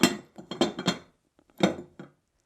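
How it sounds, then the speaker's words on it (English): A lid set onto a dish for a whole chicken cooked in the microwave gives several sharp clinks and clatters in two bursts, close and moderately loud, with a short pause between them and no talk. "we will put our lid on"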